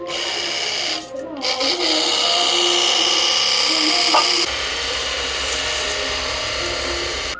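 A cheap electric water gun runs with a loud, continuous mechanical whine and rattling hum, close by, its tone shifting partway through.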